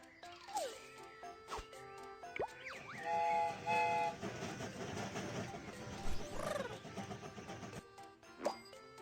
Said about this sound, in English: The train is about to start. Let's set off.